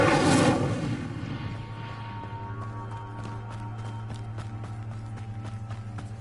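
An Incendio fire spell cast in Hogwarts Legacy on PS5 erupts as a loud, fiery burst for about half a second, then fades into a steady low game hum with faint, regular clicking.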